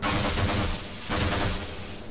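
Rapid, sustained bursts of automatic gunfire from turrets in Half-Life, a dense rattling barrage that dips briefly then resumes, fairly close and with no talking.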